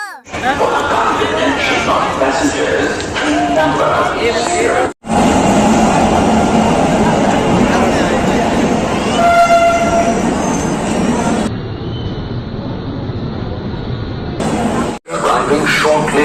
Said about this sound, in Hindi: ट्रेन कितनी बढ़िया है यार